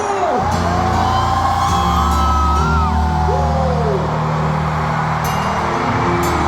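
A large concert crowd at a show yells and whoops back loudly over thumping bass and swooping synth tones, a sustained roar of many voices.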